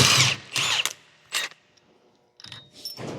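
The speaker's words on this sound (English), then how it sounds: "Take an 1/16" socket and remove the nut." A socket tool loosening the axle nut on a Polaris Ranger during CV axle and wheel bearing work, heard as several short close ratcheting bursts separated by quiet gaps.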